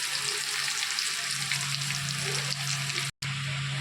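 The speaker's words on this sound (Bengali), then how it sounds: "একটা গোটা শুকনো লঙ্কা আর একটা এলাচ, ছোটো এলাচ ফাটিয়ে, আর একটা লবঙ্গ, একটু গোটা জিরে আমি এখানে ফোড়ন দিলাম।" Whole spices (bay leaf, dried red chilli, cracked green cardamom, clove and cumin seeds) sizzle in hot oil for tempering, a steady close crackling hiss with a very brief dropout near the end.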